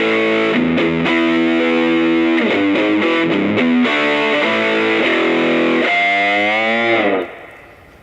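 An electric guitar runs through a Marshall amp model on a TC Helicon processor, playing loud, distorted, sustained notes and chords in a continuous line before cutting off and fading out near the end.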